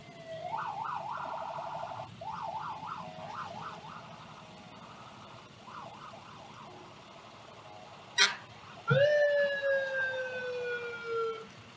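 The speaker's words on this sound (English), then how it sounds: "now you're going to see their fire engines as they roll by our location" Fire engine sirens wail past during a Christmas parade on Industrial Lane in Oneida: warbling tones early, then a sharp horn blast and a loud, close rising siren sweep that fades as the trucks roll by.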